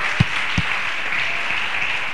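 A church congregation claps together at a worship service, a steady broad wash of applause with a couple of louder low thumps near the start, no talking over it.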